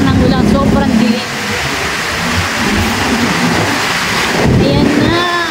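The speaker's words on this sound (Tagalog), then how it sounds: "Naabutan ng ulan pero pabagsak ng ulan" Heavy rain pours down steadily along a city road, a dense roaring wash with a low rumble running beneath it and traffic noise mixed in.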